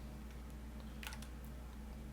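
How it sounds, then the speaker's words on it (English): A few faint, quick keystrokes on a computer keyboard as a make command is typed in a terminal to compile an exploit, clustered briefly mid-clip over a steady low hum. "let's compile our exploit"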